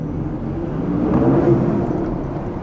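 Lifted truck's turbo and exhaust heard from inside the cab in a garage, a steady low engine rumble and whir that swells slightly mid-clip, close and continuous with no talking.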